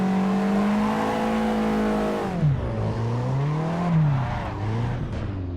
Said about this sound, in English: Quite an aggressive exhaust.